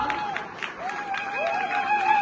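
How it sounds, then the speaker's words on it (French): Wedding guests applauding at a reception, a soft spread of clapping from the room with a tonal voice or music line running over it. "On les applaudit très très fort."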